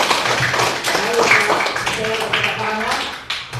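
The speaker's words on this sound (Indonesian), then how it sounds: "Oke, tepuk tangan dulu." A class of students clapping hands together, a dense run of quick claps filling the room with voices mixed in throughout.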